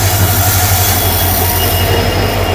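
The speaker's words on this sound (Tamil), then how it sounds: "WDP டீசல் இன்ஜின் தாங்க." A Konkan Railway passenger express hauled by a WDP diesel locomotive rumbles past at close range, a loud continuous roar of wheels on track with a steady metallic whine over it and no talk.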